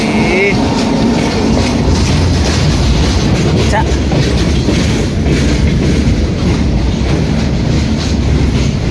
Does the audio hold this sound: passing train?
yes